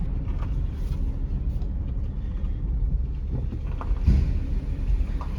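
A car runs under its own power as it is driven slowly into a shop, its low engine rumble and tyre noise continuous and mid-distance, with some wind buffeting on the microphone.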